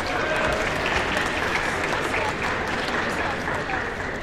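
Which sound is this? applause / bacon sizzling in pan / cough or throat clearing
applause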